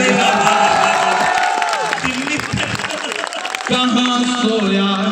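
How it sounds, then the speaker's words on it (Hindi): Clapping and cheering rise from the audience at a mushaira and poetry gathering in Tajpur, Samastipur, with whoops over the applause and a strong tonal voice ringing through the crowd noise. "करके ताली बजाइए।"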